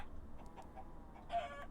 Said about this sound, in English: Let's see if we can get some more chickens. Cactus chicken and regular chicken.